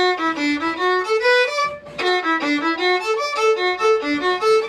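A solo fiddle plays a lively melodic tune in D with bowed notes stepping up and down, brief pause midway, bright and close.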